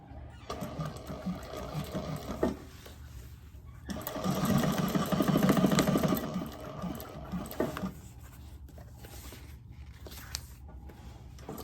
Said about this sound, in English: now we'll just sew the lining shut